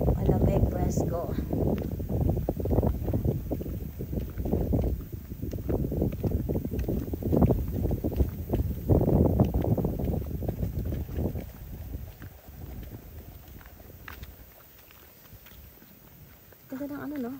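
Steady outdoor wind buffets the microphone with low rumbling gusts that ease off toward the end, while a person talks throughout over fields planted out to the far edge.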